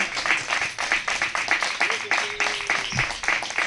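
A congregation at a Spanish-language Torah portion service claps along, with a steady rhythmic beat of hands close by that runs through the whole stretch, while a few voices call out over it.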